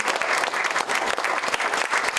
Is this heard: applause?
yes